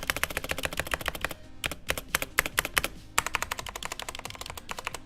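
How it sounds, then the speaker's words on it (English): Rapid clacky keystrokes on a mechanical keyboard, with a brief pause, each press carrying a slight metallic rattle. "the stabilizers definitely need some work because you can definitely hear the rattle"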